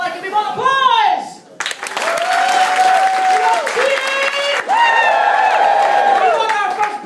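Applause and cheering from a comedy club audience at a Bright Club night in Newcastle, a loud, sustained crowd roar with whoops and voices over it, briefly dipping before swelling again.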